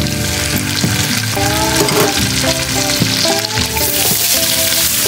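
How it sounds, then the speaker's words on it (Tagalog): Garlic and dry prawns frying in a pan, a loud, constant sizzle with stirring, while music plays prominently over it throughout. "Fry natin hanggang sa maging light brown yung ating garlic at malutong yung ating dry prawn"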